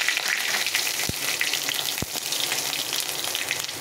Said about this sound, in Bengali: তেজপাতা আর জিরে ফোড়ন দিয়ে দেবো।